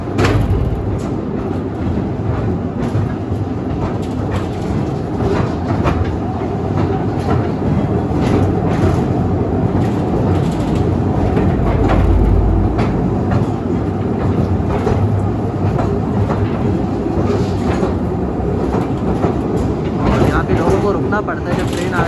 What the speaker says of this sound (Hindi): जब ट्रेन आ रही हो तो इंतज़ार करते हैं साइड पर। और ट्रेन गुजरती है।